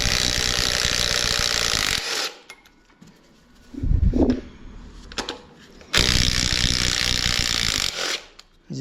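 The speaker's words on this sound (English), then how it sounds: "We need to get the pump unbolted." Loud power-tool bursts rattle and whir close by while the pump is unbolted from a 100K-mile 3.0 Duramax LM2 engine being torn down. Two long runs frame a short ratcheting clatter and some handling knocks.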